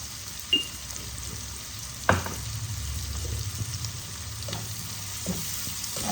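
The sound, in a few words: frying rohu fish with salt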